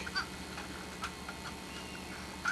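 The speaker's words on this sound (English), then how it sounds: "A mother duck who we had to chase out of our cabin." A mother duck quacks at Lake Okeechobee, a few faint, scattered quacks over quiet background hum, with a slightly stronger call at the end.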